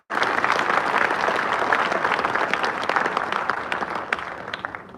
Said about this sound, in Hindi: तो तालियां थोड़ी ज्यादा बजनी चाहिए।